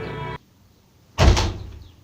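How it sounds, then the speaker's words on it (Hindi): A heavy door swings shut on its own in an abandoned asylum horror scene: a creaking strain, a brief hush, then a loud close thump that rings and fades. "लेकिन दरवाजा अपने आप बंद हो जाता है।"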